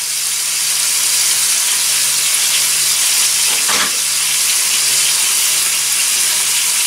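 Salsa sauce poured into a hot pan for burrito filling fills the air with a loud, steady broadband sizzle and hiss that holds constant throughout.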